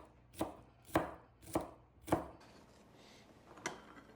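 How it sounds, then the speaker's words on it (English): Shallots being chopped with a knife on a board, four crisp evenly spaced cuts followed by a pause and one more cut, close and clear with no talking. "You need to cut up some shallots."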